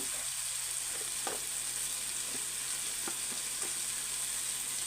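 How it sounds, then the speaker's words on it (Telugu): Spices (turmeric, coriander powder, cumin powder, masala powder and salt) frying in oil in a pan give a steady, close sizzle, with occasional soft stirring scrapes and no talking. "బాగా మనం ఫ్రై చేసుకుందాం"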